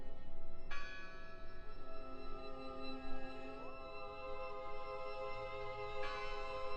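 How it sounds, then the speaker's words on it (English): A church bell rings in the Norwegian fjord-set horror game Draugen. It strikes twice with long, resonant, ringing tones that overlap a steady low ambient background. "Listen! The bell!"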